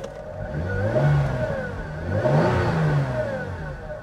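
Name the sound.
2011 Hyundai Genesis Coupe engine revving with transmission whine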